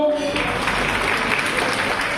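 Students at an International Nurses Day event in Pirojpur applaud in a dense, steady burst of clapping from a large crowd, with voices faintly mixed underneath.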